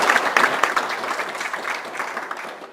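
Convention of States gathering in Arkansas, with the audience clapping in a dense, steady round of applause that slowly thins out over a few seconds, no talking over it.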